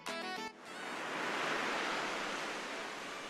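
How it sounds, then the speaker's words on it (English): Ocean waves wash onto the shore at a Goa beach, a broad steady roar of surf that swells and holds, heard alone after a brief tonal sound at the start. "sit quietly at beach and watch and listen to waves reaching to shore"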